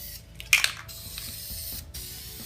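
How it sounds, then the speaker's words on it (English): A short hissing burst from an aerosol spray can of finishing coat, then a few faint clicks and a second quieter spray, close up in a quiet room. "I've chosen to use my finishing coat as spray paint on the legs because it's easier"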